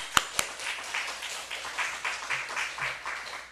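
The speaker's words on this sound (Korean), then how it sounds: "하나님께 영광의 박수 돌리겠습니다." Church congregation clapping together in rhythmic unison during a Sunday morning service, a few sharp claps first, then steady, moderately loud beats at roughly half-second intervals.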